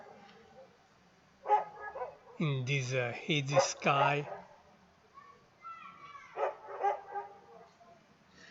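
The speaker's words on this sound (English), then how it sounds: "There are a few dogs around." A few dogs barking outdoors at night under a hazy sky, a burst of several close barks and yips mixed with someone talking over them, then scattered fainter barks.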